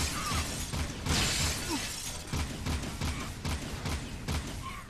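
Glass shatters in the video game Jak 2, with a loud crash and scattering shards amid a dense clatter of repeated impacts and gunfire-like bursts within a busy game soundscape.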